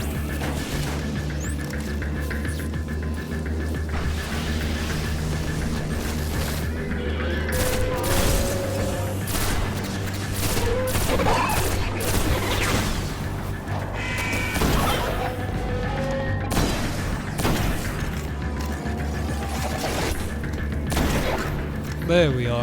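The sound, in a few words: gunfire shooting Vex enemies in video game Destiny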